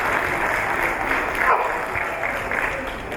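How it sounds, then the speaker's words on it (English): Moderate applause from a seminar audience, steady and somewhat distant, with faint murmuring mixed into the clapping. "I think we need to give them a better clap."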